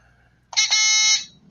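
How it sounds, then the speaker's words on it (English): A single short electronic buzzer sounds once on a trivia game show, a bright harsh tone lasting under a second against near silence. "Shirleen, let's hear your buzzer"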